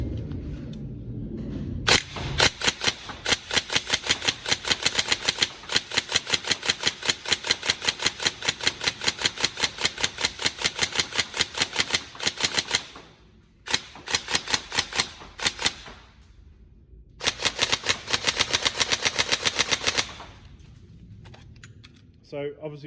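A Tokyo Marui MK18 NGRS airsoft electric gun, nearly out of BBs, fires in long rapid-fire bursts of sharp mechanical clacks, close and loud, broken by short pauses and ending with a few scattered single shots.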